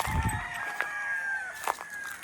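A rooster crows at a distance, two drawn-out calls with a brief clucking sound at the start, against a quiet outdoor background.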